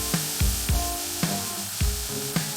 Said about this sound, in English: Now add the freshly chopped onions into the pan.